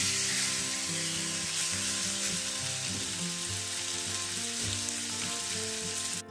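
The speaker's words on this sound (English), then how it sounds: "while we're waiting for our bacon to cook and our chicken to cook" Bacon and chicken sizzle and crackle steadily in a hot cast iron pan, a continuous bright frying hiss with occasional pops, close and uninterrupted.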